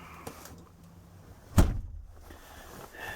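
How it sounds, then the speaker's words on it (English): An RV door closes with a single solid thunk at close range, followed by a brief rattling decay in an otherwise quiet interior. "Close my door."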